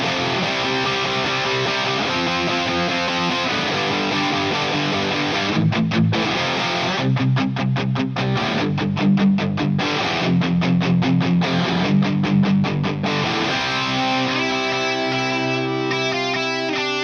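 Electric guitar with a drive pedal and a touch of reverb plays a riff, a raw distorted tone with chugging palm-muted stretches and ringing chords, played alone and loud.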